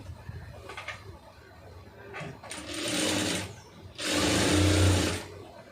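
A sewing machine stitches a puff sleeve on a lined blouse, running in two bursts of steady whirring, the second longer, with soft handling sounds and quiet pauses between.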